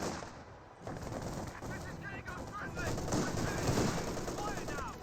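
Vickers machine gun fire in a Company of Heroes 2 battle, sustained rattling bursts under a dense wash of other combat noise, steady and fairly distant.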